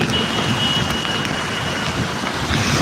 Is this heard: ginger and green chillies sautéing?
no